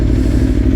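An Aprilia Tuono V4 1100 Factory motorcycle engine with its exhaust baffle removed, a loud steady rumbling idle that holds constant and close without any talk.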